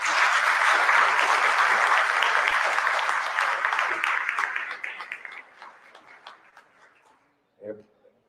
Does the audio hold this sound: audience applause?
yes